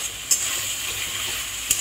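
Masala for a Tangra fish curry sautés in oil with a soft, steady sizzle, broken by two brief clinks from stirring.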